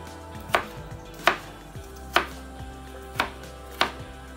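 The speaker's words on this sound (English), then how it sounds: "Ooh, look at them chopping skills" A knife chops on a cutting board in five distinct, evenly spaced thuds, close and crisp against a quiet room.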